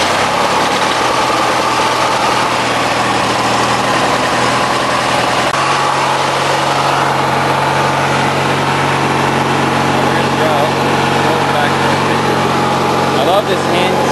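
A 1993 MTD Yard Machines riding mower engine cranks and catches, then settles into a loud steady running drone close by.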